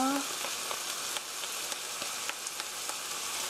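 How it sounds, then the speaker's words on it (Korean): Ketchup beef sauce is stir-fried in a pan, a steady crackling sizzle with light scraping taps of a utensil at intervals, close and fairly quiet with no talk. "케찹이 살짝 볶이면 더 맛있으니까요. 이렇게 해서 1미닛 1분 정도 볶아주세요."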